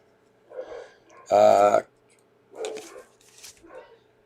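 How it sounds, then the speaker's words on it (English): Dogs bark downstairs inside a house, with one loud bark burst followed by a few fainter, muffled yips and whines, while a person talks quietly. "My dogs are going crazy downstairs for some reason."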